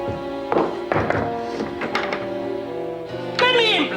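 A fist pounds on a locked door in a handful of heavy, irregular thumps, close and loud, with a voice shouting over and between the blows.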